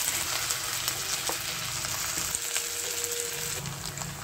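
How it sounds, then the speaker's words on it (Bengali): Cabbage koftas fry in hot oil in a vegetarian home kitchen, a steady close sizzle with faint stirring and bubbling, and no voices. "তেল গরম হয়ে গেছে। এবার বড়ার কোপ্তাগুলো ভেজে নেব।"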